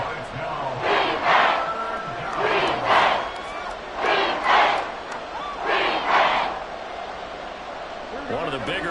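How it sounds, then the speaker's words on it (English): Football stadium crowd roaring in repeated swells during a tense fourth-quarter moment in a close game, the waves of noise rising and falling every second or so with a commentator talking over them. "The crowd getting into it as we come up on a big 3rd down."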